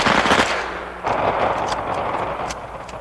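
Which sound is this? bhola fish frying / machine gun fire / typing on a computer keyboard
machine gun fire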